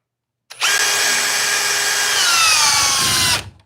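A power drill runs in speed 2 drill mode through a 5 inch task, starting abruptly and holding a loud, steady whine for about three seconds, its pitch sagging slightly under load before cutting off, with no talking.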